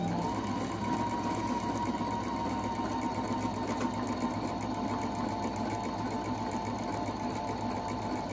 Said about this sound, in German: Nadel hoch und noch dreifache gerade Stiche.